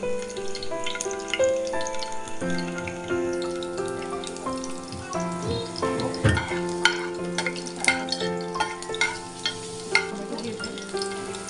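Garlic frying in hot oil in a pan, a soft crackle and sizzle under clinking utensil and stirring sounds, with tonal ringing from nearby kitchen noise.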